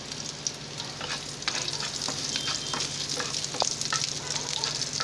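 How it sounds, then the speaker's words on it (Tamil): Okra frying in a pan for Tamil buttermilk curry, a loud continuous sizzle close up with scattered pops and spatula scrapes throughout, no talking. "பாருங்க வெண்டைக்காய் நல்லா ஃப்ரை ஆகணும்."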